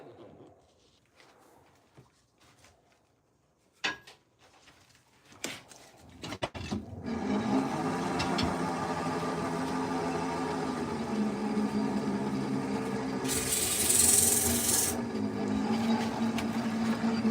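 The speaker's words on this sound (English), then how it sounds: "let's sand it up" Sanding a handmade wooden bowl, a few scattered knocks and handling sounds at first, then a steady close power-sander whir with rubbing texture that swells slightly later on.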